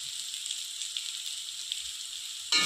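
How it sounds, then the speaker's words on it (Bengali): Spices, cumin and chilli powder with salt, sizzle in a pan for a soybean curry, a steady close frying hiss ending in a sudden louder burst of sizzling; no talking. "ভালো করে মশলাগুলো এবার আমি সব কষিয়ে নেব।"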